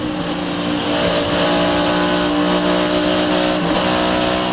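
NASCAR stock cars racing at Pocono in 1998 near 180 miles per hour, a dense continuous engine roar from several cars at full throttle, loud and sustained with slight swells as they pass.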